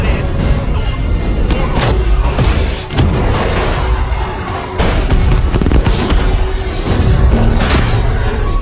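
FA-18 Hornet missiles strike militants on a hilltop in a war film, heard as a dense, loud roar with several heavy blasts and crackling bursts scattered through it, sustained throughout.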